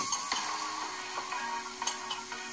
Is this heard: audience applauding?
no